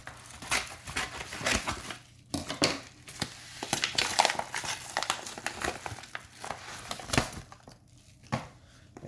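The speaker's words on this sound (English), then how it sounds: "Alright, I'm just gonna cut this right across." Packaging tape being cut open across a cardboard box holding an electronics starter kit: quiet, irregular crackling, rustling and scraping, with scattered sharp snaps spread throughout.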